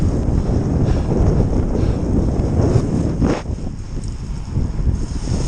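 A strong headwind roars across the microphone during a cold, wet November road ride, a constant loud buffeting rush with no voices.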